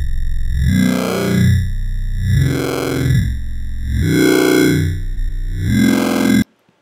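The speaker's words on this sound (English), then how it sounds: "I'm going to give some level to oscillator 2 to start FMing the sound with the sine wave." A loud, growling synth bass with a warbling, metallic FM tone, a sine wave modulating the oscillator in Ableton Live's Operator, playing a slow sequence of sustained notes before cutting off abruptly.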